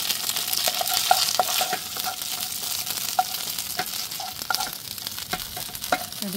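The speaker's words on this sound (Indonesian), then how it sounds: "Aku bikin nasi goreng kornet saja yang simple." Corned beef fried rice sizzles in a pan at a windy Bali campsite, a steady frying hiss broken by repeated sharp scrapes and clinks of a spatula stirring, with no one talking.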